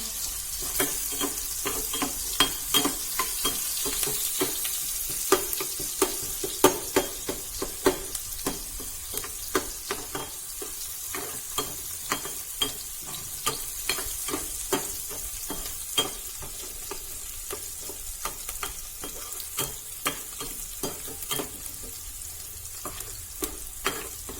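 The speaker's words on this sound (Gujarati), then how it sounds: "નાખીશું ડુંગળીને આપણે મધ્યમ ગેસે કરવા દેવાની છે" Chopped onions for pav bhaji fry over medium gas in a pan, giving a steady close sizzle punctuated by frequent rhythmic scrapes and clicks of a spoon stirring them.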